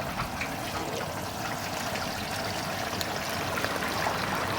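A seasoned whole turkey sinks into a pot of hot oil for deep frying outdoors, setting off a steady, loud, continuous bubbling sizzle that holds with no talking.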